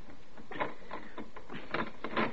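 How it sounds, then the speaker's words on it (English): Metal door lock bolt being twisted in a radio drama, a run of close, muffled clicking and scraping taps at an uneven pace. "if I can twist this bolt."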